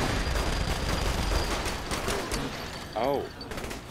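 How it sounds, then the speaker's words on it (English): Minigun in a Saints Row game firing as a dense rattling fusillade with mechanical clatter, loud and continuous under an excited shouting voice. "Minigun!"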